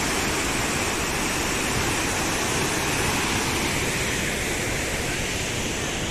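Hundru Falls near Ranchi roars loudly and without a break, a dense, close wall of crashing water with no voices.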